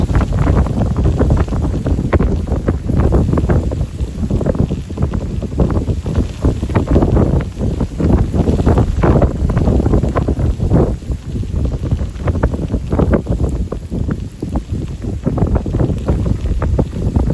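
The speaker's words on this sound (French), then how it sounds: "Un véritable coup de vent là. Premier vrai coup de vent de l'hiver." Strong winter gale gusts buffet the stern of a boat, loud rushing wind hitting the microphone in repeated heavy bursts throughout, with no talk.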